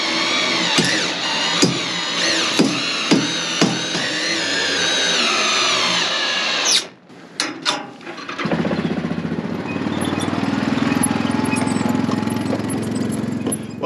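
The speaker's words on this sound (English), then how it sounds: "and then we'll use the drill to do the rest." A power drill tightens a nut onto a bolt on a farm manure wagon, with short bursts of whirring and clicking, a brief pause, then a longer, loud sustained run.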